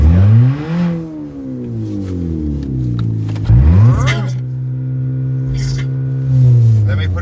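A Pontiac engine with straight pipes revving in neutral, loud close rising and falling revs that sweep up and settle back to a rumbling idle, with people talking over it.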